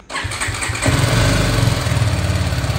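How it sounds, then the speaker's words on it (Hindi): A motorcycle or scooter engine is started with the self-start button: a brief starter whir, then the engine catches and settles into a loud, close, steady idle with no talking. "सिर्फ आप सेल्फ बटन को दबाओ इंजन स्टार्ट हो जाएगा"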